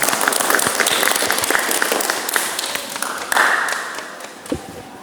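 A classroom audience in an automotive vocational lesson claps together, a dense scatter of hand claps lasting several seconds with a brief swell near the end, moderately loud, with a faint voice mixed in.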